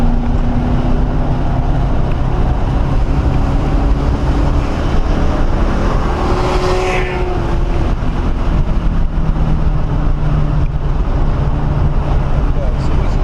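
A BMW car's engine drones and builds under partial throttle around the Mosport race track, a steady roar mixed with heavy wind noise across the whole stretch.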